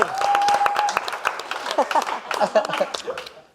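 A studio audience at a comedy roast show claps and chuckles for a guest, scattered applause mixed with laughter and someone talking over it, tapering off toward the end.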